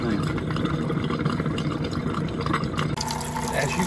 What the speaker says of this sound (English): it's running all that fresh water out